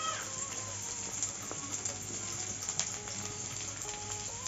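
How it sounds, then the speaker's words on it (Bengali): Chopped onions lightly frying in hot oil for matar paneer, a soft steady sizzle with faint crackles, fairly quiet and unbroken; no one speaks. "দিয়ে একটু হালকা করে ভেজে নেব।"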